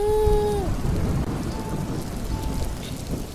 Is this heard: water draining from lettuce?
no